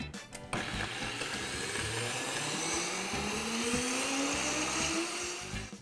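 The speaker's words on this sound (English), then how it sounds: "you wanna make sure you have a really strong blender to chop up that turmeric and ginger" A blender whirs loudly and steadily after a brief start, chopping turmeric and ginger, its motor pitch slowly rising as it grinds, with no voices.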